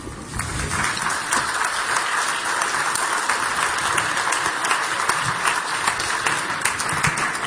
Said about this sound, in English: I'd ask that we hold our applause until I properly introduce them.